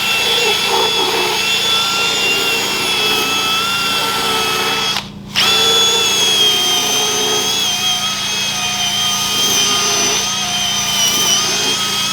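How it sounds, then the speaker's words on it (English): A failing electric drill whines steadily at high pitch, briefly cutting out midway before spinning up again, loud and close throughout. "that drill is definitely dying"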